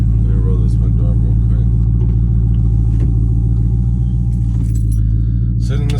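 A deep, loud exhaust rumble drones steadily from a nearby idling tuned Dodge Charger Scat Pack with an unlocked ECU, with a person talking over it from inside the car and faint clicks and rattles.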